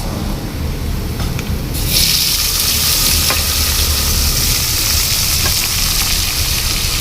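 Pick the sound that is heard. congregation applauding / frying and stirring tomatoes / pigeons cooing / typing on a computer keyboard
frying and stirring tomatoes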